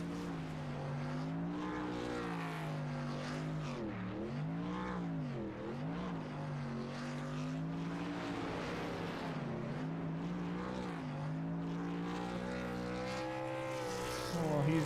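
Race car engines roar in the iRacing sim at Talladega during burnouts, a loud continuous droning whine whose pitch wavers and swoops up and down throughout.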